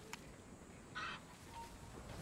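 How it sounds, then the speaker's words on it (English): A chicken clucks briefly in Assassin's Creed III, a faint short squawk and a soft burst of cackling that sit low under quiet game ambience. "Get out of the way, chicken."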